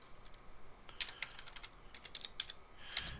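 Quiet, irregular clicking of keys on a computer keyboard, with short runs of taps and brief gaps between them, heard alone at close range.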